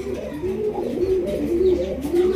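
Racing pigeons cooing close by, a series of soft, repeated low throaty coos in a steady rolling rhythm, with faint background noise and no talk.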